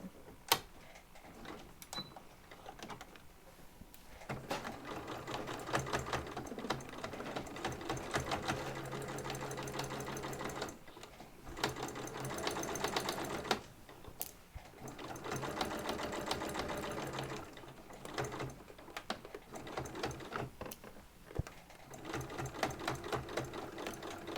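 A sewing machine stitches a cross-body bag in bursts of rapid mechanical clatter, with short pauses between runs, close and fairly quiet, with no talk.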